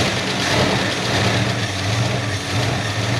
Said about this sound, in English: This noisy valve train got me started on tearing the top end of my 1966 Ford 289 engine down.